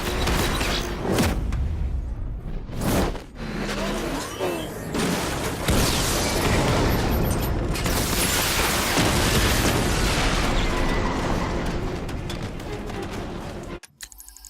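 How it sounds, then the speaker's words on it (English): Tank cannon fire and explosions from Batman Arkham Knight, a loud, dense barrage of booms and bursts with sharp blasts near the start, rumbling continuously before cutting out at the end. "Your 60mm cannon will penetrate these heavily armored units, but it'll take a few direct hits to destroy them."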